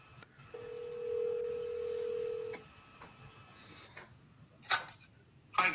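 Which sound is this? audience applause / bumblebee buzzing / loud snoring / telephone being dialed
telephone being dialed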